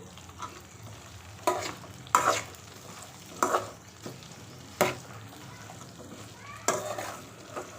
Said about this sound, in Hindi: वन मिनट हम इसको फ्राई करेंगे, जस्ट 1 मिनट करना है।